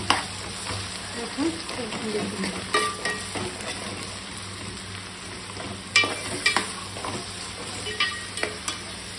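Onion and tomato frying in oil in a pan as the base for a spicy stuffed crab curry: a steady, moderate sizzle broken by occasional sharp stirring scrapes, with no talking.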